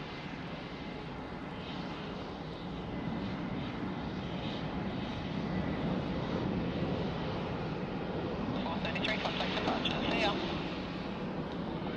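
Vietnam Airlines flight 772 climbs away from Sydney Airport, its engines a steady, fairly distant broadband roar that holds and thickens slightly midway, with a brief crackle of radio-like voice activity near the end.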